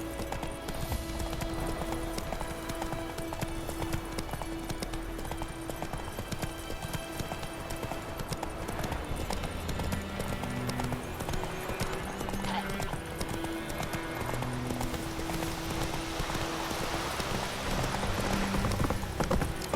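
Geralt's horse Roach trots in The Witcher 3, steady clip-clop hoofbeats on the ground repeating throughout, close and moderately loud, with a whinny and game ambience mixed in and some speech nearby.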